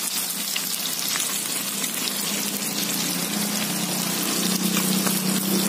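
Fish frying in a pan being flipped at a small food stall, a loud constant hissing sizzle with faint clatters, close up and continuous without voices.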